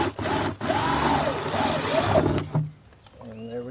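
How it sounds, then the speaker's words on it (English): Close power drill boring a hole during installation of a Waterford water hydrant, a steady whirring grind for over two seconds that stops abruptly, leaving brief faint clicks and quieter room noise. "So we'll drill one more hole."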